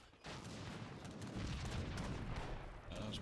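Ordnance rifle fire in a real-time strategy game rolls on as a dense, continuous barrage of booming shots and battle noise, with no speech over it.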